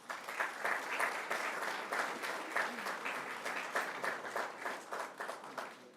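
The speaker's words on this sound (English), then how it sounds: "please give a big round of applause to 8th place winner, Crystal Shepard" An audience at a school board of trustees meeting claps for an eighth-place student award winner, a steady, dense burst of applause with individual claps standing out, no talk over it.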